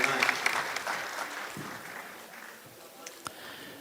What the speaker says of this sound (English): So give a big round of applause to Weston right here